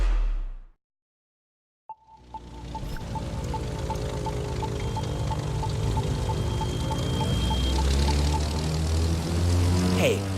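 A plane's propeller engine in The Crew 2 racing game: a short silence, then a click, then a steady loud drone that keeps building, with an evenly ticking pulse and a rising whine, and no voices.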